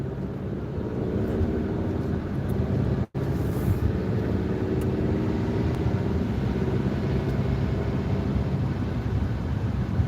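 Steady, broadband road and tire roar inside a car driving on a wet highway on the way to Florida, continuous and fairly loud, with a brief dropout partway through and no voices.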